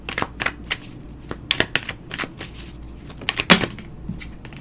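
A deck of tarot cards is shuffled by hand, with a close series of crisp riffling and slapping bursts at an uneven rhythm, some louder snaps among them.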